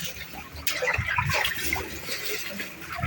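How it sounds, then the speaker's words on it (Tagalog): Fast-flowing typhoon floodwater rushes and splashes around a flooded home, loud and close, while people talk over it. "Bilis ng tubig dito."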